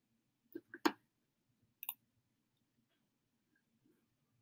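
Computer mouse clicking: a few quiet, crisp clicks close together, then one more after a short pause, faint against a near-silent room.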